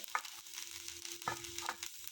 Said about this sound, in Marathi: आता खोबरं भाजून घेऊया